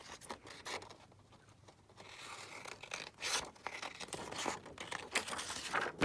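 A sheet of 12 x 12 paper master board is cut down for ephemera, giving close, papery rasping strokes and crinkles that come in uneven bursts over quiet gaps.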